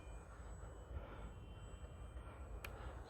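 A micro RC model airplane flies, its electric motor giving a faint, thin steady drone over a low rumbling background.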